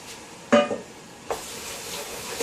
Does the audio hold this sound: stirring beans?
yes